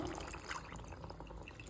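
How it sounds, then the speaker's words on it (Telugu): Water pours steadily into a pan of mutton curry, a continuous splashing rush that stays fairly even throughout. "ఇప్పుడు వాటర్ పోసేసుకుంటాను ఫ్రెండ్స్"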